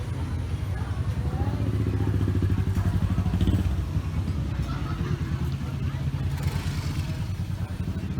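A Ducati Monster 797 Plus motorcycle with an 803cc engine idles steadily nearby, its low, lumpy throb continuous and fairly loud throughout, with a slight rise in the middle and faint clatter alongside.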